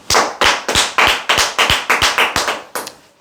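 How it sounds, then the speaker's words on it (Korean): A small group claps in unison about a dozen times in a steady rhythm, each sharp, close and loud, slowing and fading at the end. "박수 한번 치시죠"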